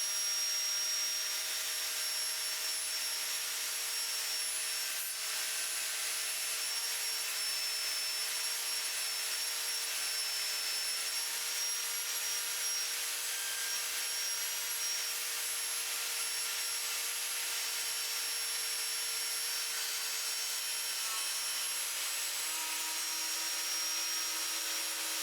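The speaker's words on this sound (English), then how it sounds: "So I've set the saw up so that it's cutting on 45 degrees." Table saw set to 45 degrees ripping a wooden board for a French cleat, a loud continuous high-pitched whine with a steady hiss throughout, close and unbroken.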